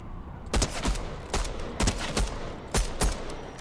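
Fortnite gunshots ring out as sharp, loud single reports, about six evenly spaced shots in a steady rhythm over constant game ambience.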